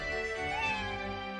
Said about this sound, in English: Did anyone else just hear a meow?